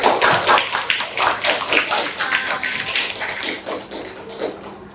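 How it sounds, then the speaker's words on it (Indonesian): Classroom applause in Indonesia for a student after her talk: many hands clapping in dense, uneven bursts for about five seconds, fairly close and loud, fading out at the end. "tepuk tangan buat Alifah."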